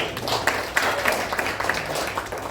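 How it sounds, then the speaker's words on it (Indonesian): A church congregation claps together during a sermon, a continuous wash of many hands with scattered sharper slaps and a faint voice underneath. "Yang ngerti tepuk tangan untuk"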